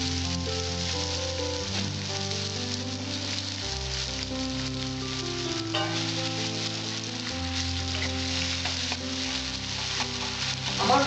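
Onions soften while frying in a pan, the start of an okra masala: a steady, dense sizzle hisses close and loud throughout, with no one speaking.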